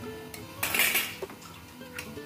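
A metal lid clanks down onto a pan of chicken gizzards cooking into a dry curry, giving one bright clatter and a short rattle up close, then a few fainter clinks.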